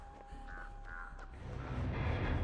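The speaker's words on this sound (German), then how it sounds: "Ich krieg schon Raben." Crows caw in the horror game Dead by Daylight, a few short harsh calls in quick succession at moderate distance over a low rumbling game ambience that swells toward the end.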